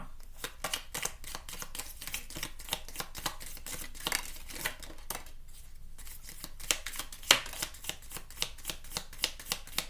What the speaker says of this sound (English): Oh, I already shuffled.